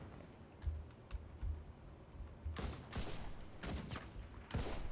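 Gunfire from the Enlisted video game in a Battle of Stalingrad match: distant muffled shots and thumps come first, then several loud, sharp bursts close by, spaced irregularly over a low battlefield rumble.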